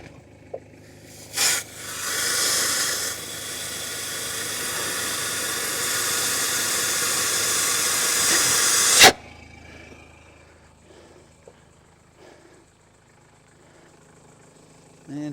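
Loud rushing hiss as engine exhaust inflates an air jack for about nine seconds, then cuts off abruptly, leaving a quiet engine hum.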